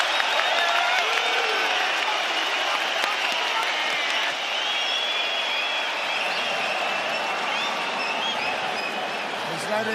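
At a UFC fight between Volkanovski and Makhachev, a huge arena crowd roars, cheers and applauds in a dense, continuous wall of noise that never lets up, with a commentator's voice buried underneath.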